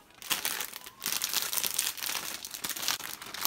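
A package of pre-cut shredded cabbage being opened, with a loud close plastic bag crinkling and rustling continuously and a few brief tearing scrapes, and no talking.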